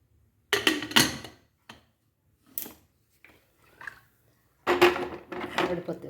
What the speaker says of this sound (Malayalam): കുക്കർ മൂടി കൊടുക്കാം.